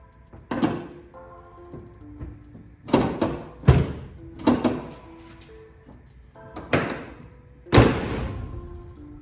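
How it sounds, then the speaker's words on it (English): The hood of a Ford Mustang fitted with new hood shocks is opened and closed, giving several separate thumps and clunks of metal, some soft and some sharp, close by with quiet stretches between them. "I am going to test to make sure that the hood opens and closes properly"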